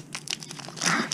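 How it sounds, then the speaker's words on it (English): Crinkly plastic foil of a Japanese Pokémon Eevee Heroes booster pack crackles and tears in a quick, close burst, with a brief louder rip near the end. "I'm just gonna rip it."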